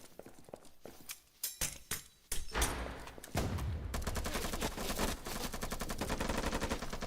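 Gunfire in a competitive shooter video game, with scattered single shots early, then sustained rapid bursts of automatic fire that run continuously through the rest of the stretch.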